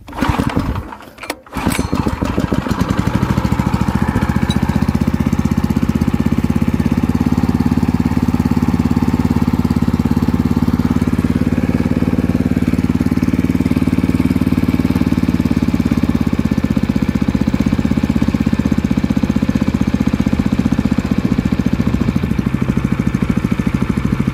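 A petrol water pump engine that had been losing ignition is started, catching after a brief rough burst, then runs at a steady, loud idle close by for the rest of the stretch.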